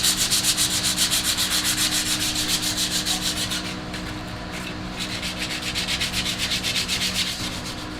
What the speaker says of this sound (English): we're going to go ahead and sand these, get them ready for paint